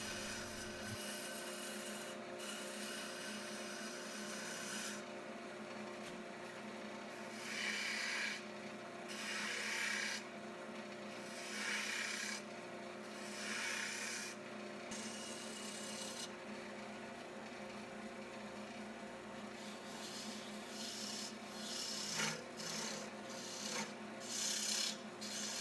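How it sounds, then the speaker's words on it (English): Rasping hand-tool strokes shape the back end of a wooden mallet handle made of lignum vitae, a very dense wood. The strokes come in repeated bursts of scraping, close and steady, with no talking. "Here I'm shaping the back end of the mallet handle."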